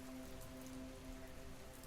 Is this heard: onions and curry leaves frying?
no